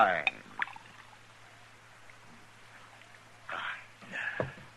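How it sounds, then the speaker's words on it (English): A drink is poured into a glass in a saloon scene, brief liquid gurgles partly under a voice, with quiet pauses between. "Pour it, Sam."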